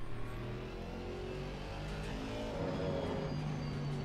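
A GT3 race car engine drifting in a racing sim, revving steadily and holding a sustained whine with shifting pitch as the car slides, fairly close and continuous with no talk.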